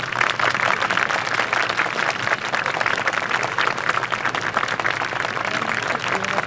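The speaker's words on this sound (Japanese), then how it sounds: "盛大な拍手をお願いいたします" An audience at an awards ceremony for the Kyoto Sakura Yosakoi dance festival applauds steadily, a dense wash of clapping hands sustained throughout without letting up.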